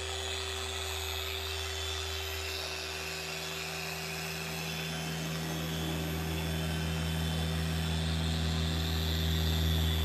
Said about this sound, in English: When I'm polishing, I'm looking in front of and behind the pad when I'm polishing.